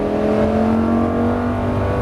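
A Lamborghini engine roars steadily at high revs, loud and close, a continuous full-throttle drone.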